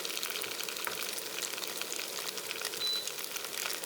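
Beef slices sizzle in a hot pan for an Asian-style steak and bok choy dish, a steady dense frying hiss with faint crackles, close and continuous, with no voices.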